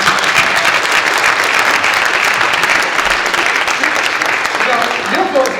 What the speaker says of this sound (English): Big round of applause for Dr. Trump.